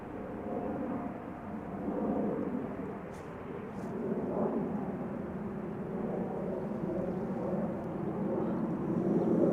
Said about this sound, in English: Also taking off from runway 24 is A737 by the looks of it.